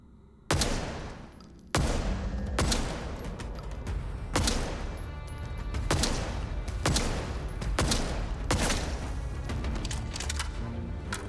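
Gunfire in the video game Atomfall: about seven sharp, loud shots spaced irregularly, each with a booming decay and heavy reverberant tail, with no talking over them.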